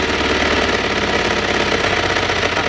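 Engine settling to a steady idle after the fast idle lever is wound back, a continuous close mechanical drone with a faint rhythmic knock running throughout.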